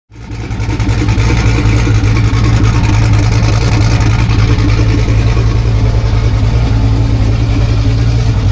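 A turbocharged truck engine with an exhaust leak starts up abruptly and settles into a loud, steady, close-up rumble with a continuous raspy chatter and no voices over it.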